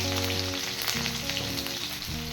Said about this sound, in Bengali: এবার ফোড়ন 25 থেকে 30 সেকেন্ড ভেজে নেব।